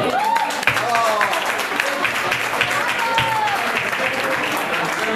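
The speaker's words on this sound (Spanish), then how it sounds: "un fuerte aplauso a la guitarra" Audience applause for the guitarist of a melodic metal band at a live show: steady, dense clapping fills the whole stretch, with a few voices calling out over it.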